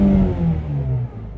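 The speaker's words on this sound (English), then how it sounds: "we're gonna test out both exhaust in regular mode and when we turn it up" A Ford Mustang GT350 V8 with a cross-plane crankshaft revs with its exhaust in normal mode, giving a loud, steady, rumbling engine note that sags slightly toward the end, with no talking.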